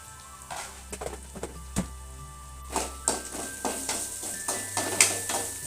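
A peas and beetroot palya sizzles in a pan while a spoon stirs it. Repeated scraping strokes and light metallic clinks rise over a continuous frying hiss, with a few sharper knocks toward the end.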